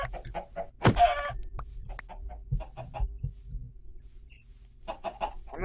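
Video-game chickens cluck in short, scattered bursts, with one sharp, louder squawk early on, then softer intermittent clucks against a quiet background.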